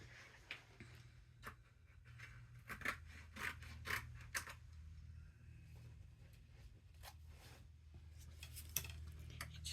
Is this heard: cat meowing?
no